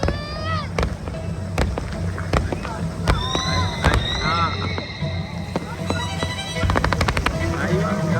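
An Eid al-Adha fireworks display at Katara: repeated sharp bangs and rapid crackling bursts, with rising whistles over a busy background of crowd voices and music.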